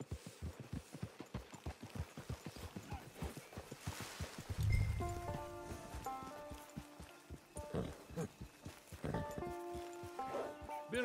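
A horse in Red Dead Online walks with a steady, close clip-clop of hooves, joined midway by a heavy thud and a burst of musical tones as the hoofbeats carry on, with a voice speaking briefly.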